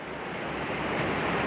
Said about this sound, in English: You see there's a wee waterfall here, it's very nice.